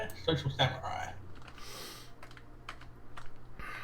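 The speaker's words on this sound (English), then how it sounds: "I can hear you banging away on your keyboard" Computer keyboard typing rattles steadily in the background, quick irregular clacks running throughout, with a voice speaking over the first second.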